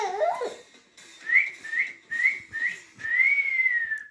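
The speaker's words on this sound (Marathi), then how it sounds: "शिट्टी तर वाजू राहिली" Someone whistles clearly and alone in a quiet room: a wavering opening phrase, then four short, evenly spaced high notes and one long held note at the end.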